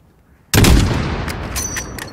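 A single loud sniper rifle shot in Call of Duty Modern Warfare cracks suddenly after near silence, then rolls out into a long booming echo that slowly fades.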